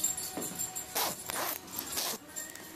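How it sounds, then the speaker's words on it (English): A zipper that has come off its track is tugged in several short rasping pulls, close and distinct, each scrape ending abruptly, with no voices over it. "You got the zipper off track."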